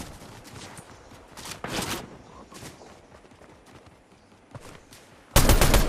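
Bursts of rapid gunfire with scattered single shots in the video game Fortnite, some distant and some close, ending in a loud sudden blast of fire.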